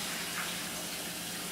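Water runs steadily from a kitchen tap while a bowl is rinsed, a continuous hiss of broadband splashing that is fairly faint and fills the short moment without any talking.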